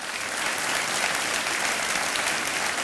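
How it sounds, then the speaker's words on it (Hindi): Studio audience applause on a TV quiz show, a steady dense wash of clapping that runs without a break at close, even loudness. "तालियां बजती रहे"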